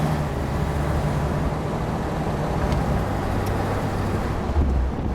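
A 1957 Ford Thunderbird engine idling close by, a steady low rumble that holds even throughout with no speech over it.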